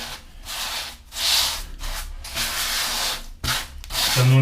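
A float spreads tile grout into the joints of a small tiled surface, giving repeated gritty scraping strokes in a steady back-and-forth rhythm, close and fairly loud, with a short knock near the end.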